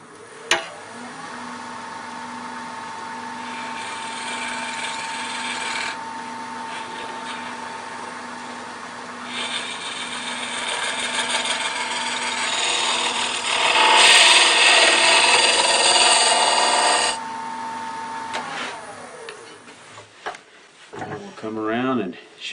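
A wood lathe turning a wooden mushroom box: a steady motor hum with a scraping tool cut running throughout, the cut growing louder and rougher midway, then the machine winds down at the end.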